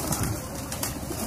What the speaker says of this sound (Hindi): ये 200 कबूतर, क्या बात है, कमाल कबूतर हैं यार सारे